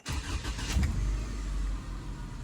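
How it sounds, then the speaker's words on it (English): A 2001 Subaru Outback engine starts, with a brief cranking burst at the start that quickly settles into a steady, fairly loud idle rumble held close to the car, no voices over it. "And then you'll crank your car and let it run for 10 minutes."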